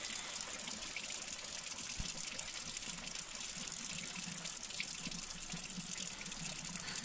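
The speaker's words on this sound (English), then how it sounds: "So now it's time to actually drain the pasta" Cooked pasta being drained into a sink, a continuous soft rush of pouring water with a faint splash partway through, fairly quiet and steady with no voices.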